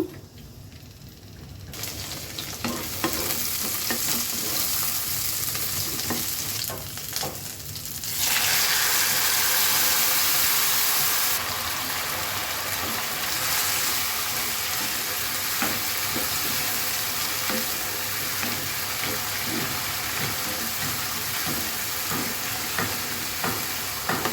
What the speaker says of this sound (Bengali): সবজিটা বাগার দিয়ে দিব এখন সবজি সিদ্ধ হয়ে গেছে অল্প একটু তেল দিয়ে দিয়েছি পেঁয়াজ কাঁচামরিচ দিয়ে দিব